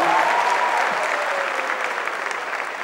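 Live comedy audience at the Hackney Empire in London clapping steadily in dense, sustained applause that fills the hall and slowly tapers off, with no voices over it.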